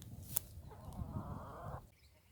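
A single pastured hen gives a soft, drawn-out cluck while foraging, faint and close in a quiet outdoor setting, preceded by a brief click.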